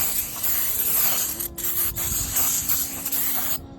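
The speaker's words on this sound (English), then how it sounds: "give this thing a good spray down and then wipe it up so we can get all that grease off" Brake cleaner sprayed onto a greasy brake rotor of a 2016–2022 Lexus RC200t, a loud continuous aerosol hiss lasting several seconds with two brief breaks, ending abruptly.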